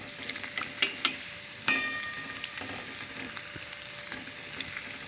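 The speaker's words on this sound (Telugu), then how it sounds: "ఫ్రై చేసుకున్నాం అనుకోండి నెమ్మదిగా ఫ్రై చేస్తే లోపల కూడా బాగా వేగుతుంది" Pumpkin and mango lentil vadiyalu fry in oil, with a steady soft sizzle broken by scattered pops and a few utensil clicks and taps, close and moderately quiet.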